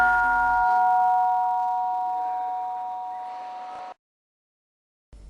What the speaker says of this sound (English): the gong hit for the breakfast.